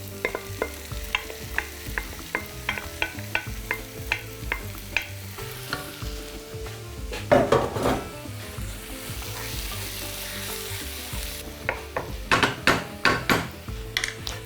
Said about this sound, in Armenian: Անմիջապես լցնում ենք տապակվող բաղադրիչների վրա